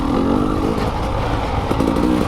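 A 2020 KTM 300 XC-W two-stroke dirt bike runs at low speed on a slow trail. The engine chugs loudly and steadily up close, with a brief rise in revs and some clattering over the terrain.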